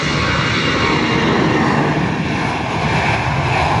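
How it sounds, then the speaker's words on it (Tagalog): A Canadian fixed-wing aircraft standing at Cebu airport gives off a loud, steady engine roar with propeller drone, close by and constant throughout with no talk over it. "May aircraft. Canadian na aeroplano to"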